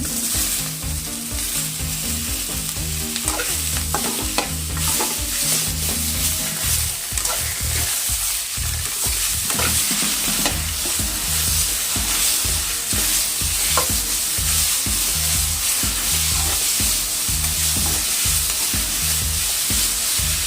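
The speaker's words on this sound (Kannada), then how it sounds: "ಈಗ ಟೊಮೆಟೊ ಹಾಕೋತಾ ಇದ್ದೀನಿ" Tomatoes fry with onions in a pan for a tomato onion chutney, giving a loud, close, continuous sizzle with rhythmic stirring scrapes throughout.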